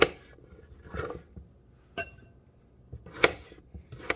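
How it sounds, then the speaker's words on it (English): Apples being chopped with a knife on a board: a few separate sharp cuts spaced about a second apart, close and fairly quiet, with no talking. "And chop up all of the apples."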